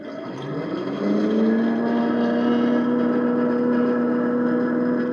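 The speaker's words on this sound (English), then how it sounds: "let's take this spacewalk out for a ride" An Eilleo SpaceWalk X01 electric dirt bike ridden in its first power mode gives a steady, fairly loud motor whine that climbs in pitch during the first second and then holds an even tone over continuous rolling noise.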